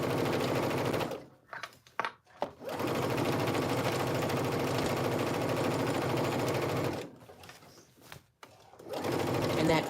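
A sewing machine runs close up stitching a jacket seam under the arm, in two long steady bursts of fast rattling stitches separated by brief pauses and handling noises.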